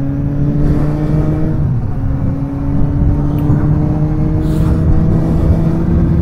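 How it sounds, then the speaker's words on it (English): Suzuki GSX-S750 AL9 motorcycle engine running with a steady, smooth rev, its low droning harmonics holding loud and close throughout with slight rises and no talk. "This is a much smoother engine than the CB650."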